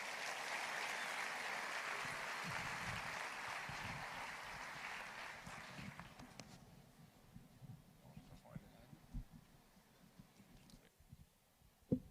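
Audience applause at a church conference, steady clapping from a large crowd for about six seconds that fades away, leaving quiet room sound with faint scattered noises.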